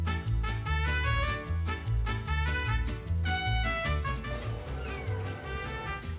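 A cat meows repeatedly, its short calls sitting over a loud, rhythmic background of music that continues throughout.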